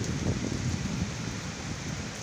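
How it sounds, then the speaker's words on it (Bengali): Heavy rain falls steadily as a dense, even wash of sound with no break, close and continuous, and no voices over it. "অনেক বৃষ্টি হচ্ছে।"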